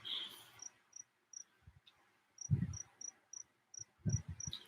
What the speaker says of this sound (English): It's either a cricket or a frog.